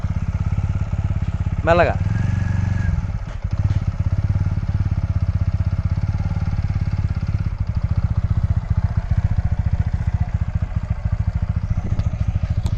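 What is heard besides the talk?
motorcycle moving off as the learner releases the clutch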